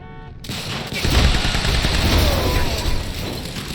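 Sustained machine-gun fire in the video game Quantum Break starts abruptly and continues as a loud, dense, continuous rattle for several seconds.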